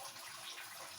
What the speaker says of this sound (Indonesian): ada gemericik air di samping kita itu ada kolam